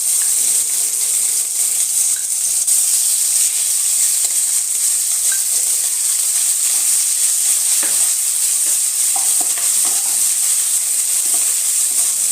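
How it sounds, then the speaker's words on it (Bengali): Prawns frying in hot mustard oil in a wok, a steady loud sizzle and hiss with occasional stirring clinks and scrapes, continuous throughout with no talking. "এর মধ্যে আমি চিংড়ি মাছগুলোকে এবার ভেজে নেব"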